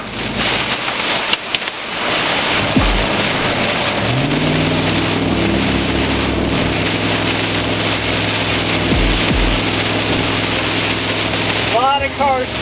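Heavy hail and strong wind lash a vehicle during a Minnesota tornado-warning storm, a dense, steady roar of drumming impacts that lasts throughout, with a few heavier knocks.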